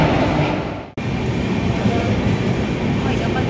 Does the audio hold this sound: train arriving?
yes